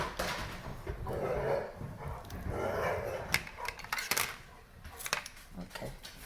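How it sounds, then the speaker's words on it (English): Dogs bark excitedly in a home kitchen while a whole chicken is deboned. The barks are short, scattered and somewhat distant, mixed with clattering dishes and utensils and low background noise. "oh, the dogs are going crazy"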